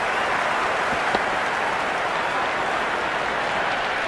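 Stadium crowd in the Cricket 26 video game, an MI vs CSK match, roaring and cheering in a steady, dense wash of noise, with one brief sharper accent just past the first second.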